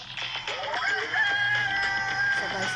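A rooster crows in the mobile game Manok na Pula, a drawn-out, loud, close crow with background game sounds and a faint voice behind it.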